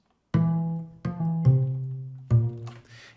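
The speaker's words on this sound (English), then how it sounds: "It is an upright bass, which sounds like this." Upright bass virtual instrument sample plays four deep sustained notes, each plucked onset ringing out and overlapping the next in a slow legato line, heard alone and up close.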